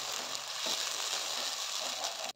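A thick tomato paste sizzling and bubbling in a hot pan, a steady frying hiss with a few soft stirring scrapes, ending suddenly.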